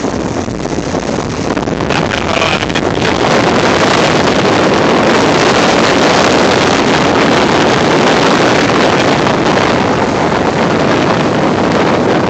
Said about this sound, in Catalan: mar embravecido, ja veieu que fa molt vent